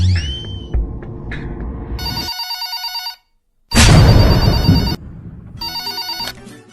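A telephone bell rings loudly in two long bursts with a sharp gap between them, following some clattering noises at the start.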